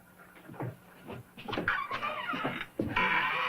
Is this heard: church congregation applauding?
no